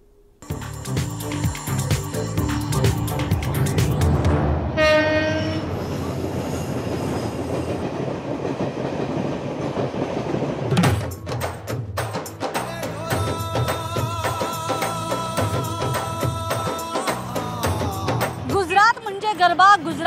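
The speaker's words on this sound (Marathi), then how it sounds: "चला तर मग करूयात सफर नव्या कोऱ्या मुंबई अहमदाबाद तेजसशी" A new Mumbai–Ahmedabad Tejas Express private train runs along continuously, carrying steady rail rumble and wheel noise with a brief squeal, plus a horn-like tonal burst around the middle. Changing background sounds follow later in the ride.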